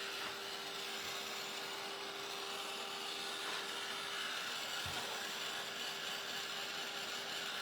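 A blow dryer dries ink on a pillow cover during a Chalk Couture carrot and rick rack craft project, giving a steady, even whirring hiss that runs without a break for the whole stretch.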